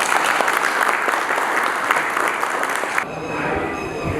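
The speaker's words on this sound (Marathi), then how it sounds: "त्यांच्याकडे टाळ्या वाजवा" An outdoor audience at a temple tree-planting event bursts into loud, steady applause that drops off a little near the end.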